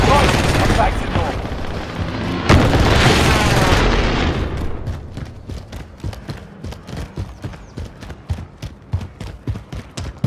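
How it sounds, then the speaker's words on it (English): A precision airstrike lands in Warzone: loud roaring blasts and rumbling impacts open the scene, then a rapid string of sharp explosive cracks follows in an uneven rhythm, some close and punchy. "Allied precision airstrike incoming."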